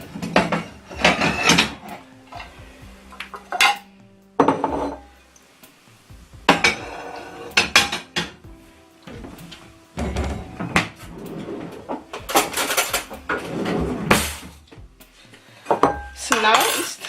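Dishes and cutlery clatter repeatedly in a home kitchen as a bowl is fetched from a cupboard, with bursts of clinking ceramic, rattling utensils and cupboard or drawer knocks spread throughout, loud and close with no talking.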